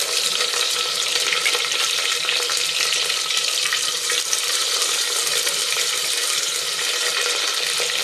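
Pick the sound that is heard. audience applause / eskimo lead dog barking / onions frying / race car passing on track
onions frying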